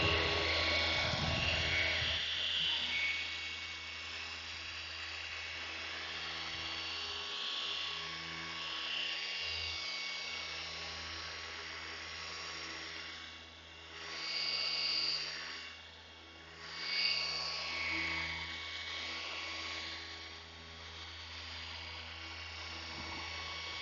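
Machine polisher running on car paint, a continuous whirring hum with a high whine that steadies, briefly dips and swells as pressure and speed shift, moderately quiet and without talk.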